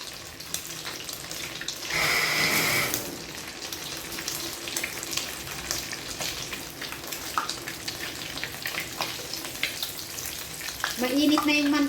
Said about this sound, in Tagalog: Mainit na yung mantika kaya mabilis siyang mag-brown